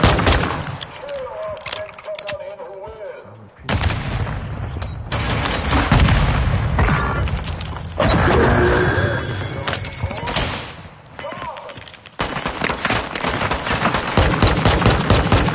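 Video game gunfire in loud, dense bursts of rapid shots and booms, breaking off briefly near four and twelve seconds, with a voice faintly underneath.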